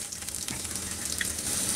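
About half a cup of chopped onion fries in a little oil in a frying pan, giving a quiet, even sizzle with light crackles and no talking.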